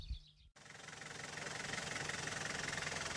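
A 4x4 off-road vehicle crawls in short first gear across a side slope, its engine a steady low rumble with rhythmic pulsing that starts abruptly after a brief quiet moment and holds even and close.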